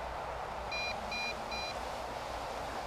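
An MJX Bugs 3 Pro GPS drone sounds a warning of three short, evenly spaced high-pitched beeps over a steady background hiss.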